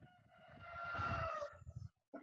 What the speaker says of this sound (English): The rooster's ready.